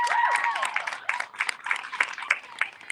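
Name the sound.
audience applause at open mic poetry event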